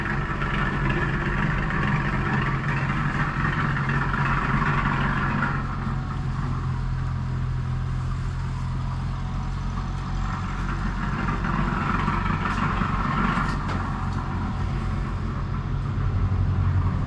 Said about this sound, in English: See the single cylinder engine there. Probably about a 5 horsepower.